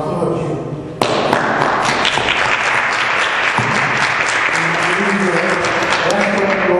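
Applause and cheering at a city council meeting in Elizabeth, New Jersey, erupting suddenly after a thump and continuing as loud, dense clapping from the room, with voices mixed in.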